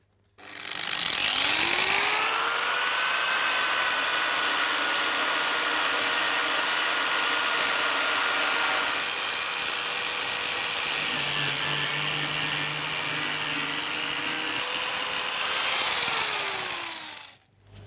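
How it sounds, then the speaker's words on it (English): A power grinder grinds away car body metal around a hole before welding, a loud steady whine that runs continuously for about sixteen seconds, with pitch shifting slightly as pressure changes, then spins down. "now I'm going to grind away this area here"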